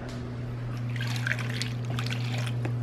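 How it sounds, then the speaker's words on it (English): Warm water poured into a mixing bowl, a soft splashing trickle that rises over a steady low hum and runs for a couple of seconds, close and fairly quiet. "So the first bowl, let's fill it up with a little bit of warm water."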